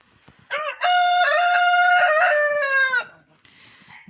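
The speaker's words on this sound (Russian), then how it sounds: "Мои петушки" A rooster crows loudly and close by in a snowy Siberian farmyard, one long harmonic call held for about two and a half seconds, with faint background noise before and after.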